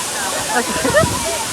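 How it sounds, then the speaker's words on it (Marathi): The Dhangar waterfall in Badlapur roars steadily with rushing, splashing water, a loud continuous wash close by, while indistinct voices murmur faintly underneath. "तर मित्रांनो हा बघा धनगर धबधबा आपल्या मागे पण आहे."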